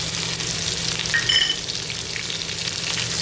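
Finely chopped green chillies sizzling in hot oil with cumin, curry leaves and asafoetida, a close, steady crackling fry with a brief brighter spatter partway through.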